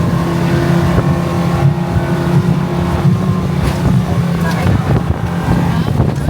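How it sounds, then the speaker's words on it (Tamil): A speedboat races across the sea off Antarctica, its engine a loud, steady drone with a strong low hum. Wind buffets the microphone throughout, the sound is close and constant, and no one speaks. "ஸ்பீட் போட் மாதிரி போயிட்டுருக்காரு."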